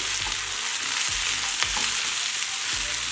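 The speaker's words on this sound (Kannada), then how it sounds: "ಹೆಚ್ಚಿಟ್ಕೊಂಡಿರೋ ಟೊಮೆಟೊ ಹಾಕ್ಕೊಳ್ಳೋಣ ಗ್ಯಾಸು ಹೈ ಫ್ಲೇಮಲ್ಲೇ ಇರಲಿ" Chopped tomatoes sizzle and fry over a high gas flame, a steady bright hiss with a few soft stirring knocks at a regular rhythm, close and fairly loud, no voices.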